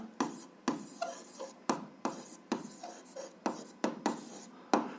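A pen writes out the answer to an algebra exercise on a system of equations, giving a quiet, close series of short scratchy strokes in an uneven rhythm, heard alone.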